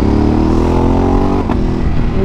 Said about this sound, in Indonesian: Tuh, kita setiap downshift tuh ada auto blip dia gitu.